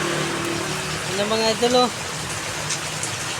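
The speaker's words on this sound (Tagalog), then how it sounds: "Lakas ng ulan mga idol." Heavy rain falls at night in Camboorgan, Las Piñas, a steady broadband hiss and patter continuing throughout, with someone speaking briefly over it in the middle.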